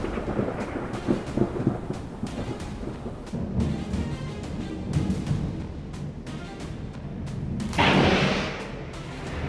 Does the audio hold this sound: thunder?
yes